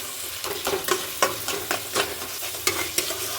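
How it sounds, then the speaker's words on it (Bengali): Ginger-garlic paste sizzles in hot oil for a Bengali-style meat curry while a spoon stirs it steadily, making close, rhythmic scraping strokes over a constant frying hiss. "এবার আদাটাকে আমি নাড়াচাড়া করতে থাকবো দেখুন এইভাবে আমি নাড়াচাড়া করতে থাকবো"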